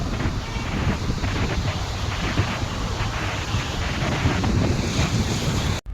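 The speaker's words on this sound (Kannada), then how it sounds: "ನೋಡಿ ಹೆಂಗೆ ಬರ್ತದ ಗಾಳಿ" Steady, strong wind roars across the microphone without a break, with a rushing, surf-like wash underneath and no voices.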